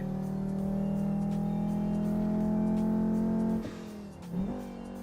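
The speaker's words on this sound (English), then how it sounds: "You can hear the turbo." A Volvo S60R turbo engine in Assetto Corsa holds a loud, steady high-revving drone, then drops sharply as the throttle lifts, with a brief surge and dip before settling lower.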